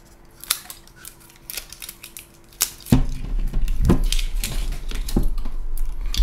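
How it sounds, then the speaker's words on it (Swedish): Foil is torn off the neck of a gin bottle, first as a few sharp crinkles and snaps, then as a sustained close rustle and crackle in the second half. "Vi rycker väl folien på den här."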